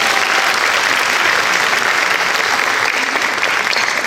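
A crowd at a tribute event for Major Attaway breaks into full, steady applause, a loud and even wash of clapping that holds for several seconds with no talking.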